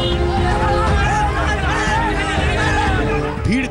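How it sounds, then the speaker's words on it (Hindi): An angry crowd in uproar on a blocked street during a lockdown, a dense babble of many shouting voices, steady and loud throughout. "भीड़ का जबरदस्त हंगामा"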